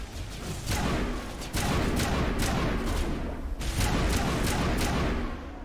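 Sniper rifle shots ring out in Mass Effect Legendary Edition. Several sharp, loud cracks arrive at irregular intervals over a steady wash of game noise.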